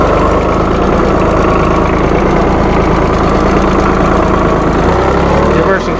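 A 1998 New Holland Boomer 1925 compact tractor engine with 34 hp runs loud and close at a steady, knocking diesel idle while ranges are shifted, with a faint clunk near the end.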